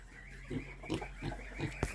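Low, soft grunts from a pig lying in a farmyard come in short repeated bursts about every third of a second, fairly close over a steady background hum.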